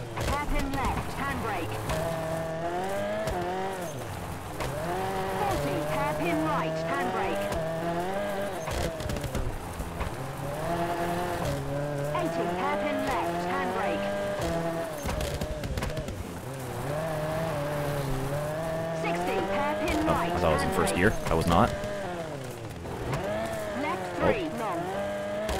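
Rally car engine in the WRC 2 video game on the Acropolis Rally of Greece, a continuous loud revving drone that rises and falls with gear shifts, with someone talking over it throughout.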